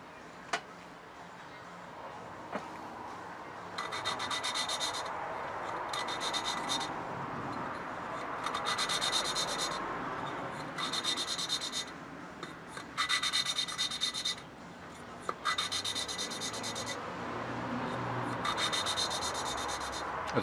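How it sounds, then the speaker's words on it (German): Hand lapping a valve into the cylinder head of an Opel Astra H, repeated rhythmic scraping grinds in short bursts of a second or two with brief pauses between, close and fairly quiet, occasional faint clicks. "man hört das von ganz grob bis zum ganz feinen Schleifgeräusch"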